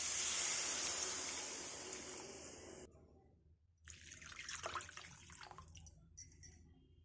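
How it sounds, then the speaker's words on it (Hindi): Water is poured from a container into a pan of spiced kohlrabi and potato curry, a bright splashing pour that stops abruptly, followed by softer sizzling and bubbling in the pan. "एबे आमे पानी दे दबा।"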